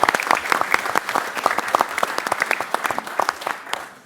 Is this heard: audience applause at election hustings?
yes